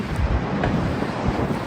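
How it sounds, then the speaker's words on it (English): Blizzard wind gusts with heavy snow in southern Minnesota, a steady loud roar buffeting the microphone throughout with no lulls. "a blizzard warning is in effect as gusts of 50 to 55 miles per hour combine"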